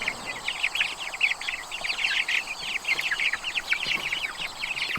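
A flock of meat chickens on a homestead keeps up dense, busy clucking and chirping calls, steady and moderately near, with no talking.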